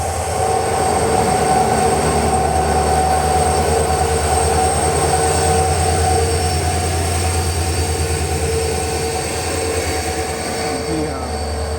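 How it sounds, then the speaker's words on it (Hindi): Yesvantpur–Vasco da Gama Express pulling in at platform 1 of an Indian railway station, a steady loud rumble of wheels and carriages rolling past close by for the whole stretch, with some faint station noise. "आई थिंक प्लेटफॉर्म नंबर 1 पे आ रही है Yesvantpur Vasco the gamma express."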